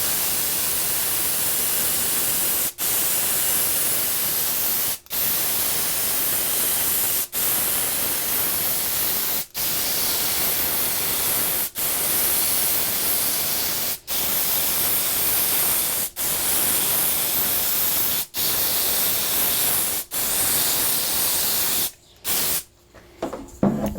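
ZAR finish coat is sprayed onto a wooden redwood sign in a steady, close hiss, broken by brief regular pauses every couple of seconds, before it sputters and stops near the end.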